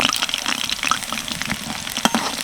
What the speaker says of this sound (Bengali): এই লঙ্কার রোলগুলো ভাজার সময় আঁচটাই কিন্তু মিডিয়ামই রাখতে হবে